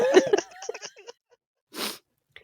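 A person talks briefly, then after a short pause a single sharp sneeze bursts out, close and fairly loud.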